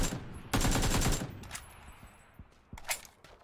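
Full-auto gunfire in a first-person shooter video game, a dense rapid burst of shots up close followed by a few scattered single shots and quieter game effects.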